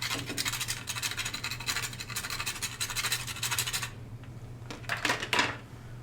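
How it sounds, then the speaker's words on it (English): A whole nutmeg rasped against a grater in quick rhythmic scraping strokes, close and crisp, with a pause and then a few more bursts. "So I have the whole nut here. I'm just going to grate it in."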